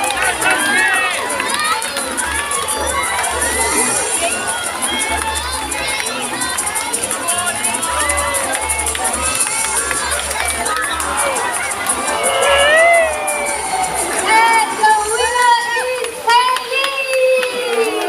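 A crowd of supporters, many of them children, cheers and shouts excitedly at a bird park show, a steady loud roar of overlapping voices with rising bursts of screaming near the end.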